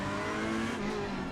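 A race car engine in the driving game Assetto Corsa Competizione: a continuous, steady engine drone held at a fairly constant pitch, heard alone.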